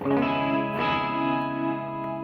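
Electric guitar through a modelled Vox AC30-style amp in BIAS FX software, a single sustained, lightly overdriven chord ringing out and fading slowly, with no voices.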